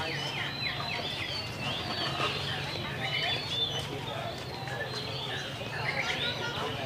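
Birds sing and call at a songbird contest during the Cao Lãnh mango festival in Đồng Tháp, their chirps and whistles scattered through a busy outdoor crowd with voices talking nearby.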